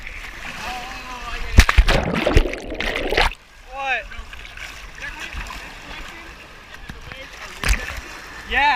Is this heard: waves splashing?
yes